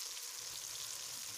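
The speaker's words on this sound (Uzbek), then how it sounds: "Buni ham yaxshilab qovurib olamiz. Masalliqlarimizni qancha uzoq qovursak," Meat frying in a pan for pea soup, giving a steady, close, soft sizzle with a fine crackling hiss that holds even throughout, with no voices.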